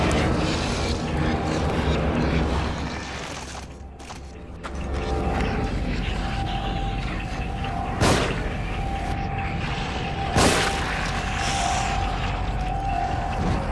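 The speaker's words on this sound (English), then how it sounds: "Oh, that's a bomb." A bomb going off in The Evil Within: steady rumbling low drone broken by a couple of sharp, loud bursts later on, with no talking.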